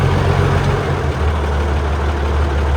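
A tractor engine, freshly fitted with new fuel filters, runs with a steady loud low rumble close by, dropping slightly in pitch as it settles into a smooth idle.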